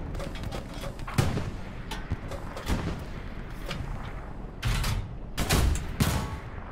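Tank cannon fire in a tank combat game, several heavy booming shots with sharp attacks spaced a second or two apart over a low rumbling engine bed, fairly close, without talk.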